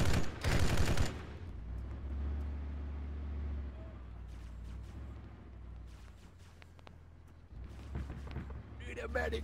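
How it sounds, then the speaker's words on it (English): An online shooter match opens with a loud short burst of automatic gunfire, then a low engine-like rumble holds under scattered distant shots, and another burst of fire closes it. "Just start shooting."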